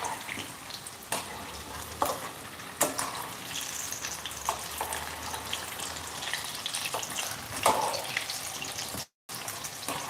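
Vermicelli vegetable cutlets deep frying in hot oil, a soft steady sizzle and bubbling with a few light clinks and stirring taps, quiet and close, ending with a brief cut.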